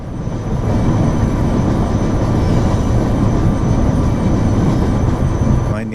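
A single MP15 locomotive hauling a heavy freight train of about 10,000 tons down Cajon Pass with the independent brake applied, a loud continuous rumbling roar of rail travel, steady throughout.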